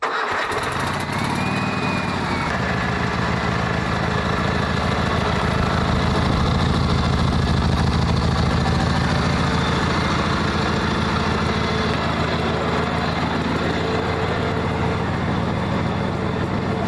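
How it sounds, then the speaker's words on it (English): Gravely rear engine rider tractor used for plowing snow, a loud steady engine idle with a constant throbbing rumble after a brief starting burst, close up and continuous with no talking. "So let's get the tractor out and start plowing."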